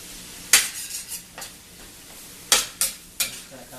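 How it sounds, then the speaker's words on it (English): A spoon stirs ground meat with ginger, pepper, roasted garlic and cumin in a hot pan, giving a few sharp scraping clinks against the pan over a low sizzle. "I'm just going to kind of mix that up."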